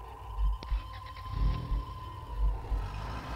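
A stolen van's engine in the video game Road of Fear, a low, moderate rumble with rhythmic pulsing swells and a faint steady hum, heard alone and fairly close.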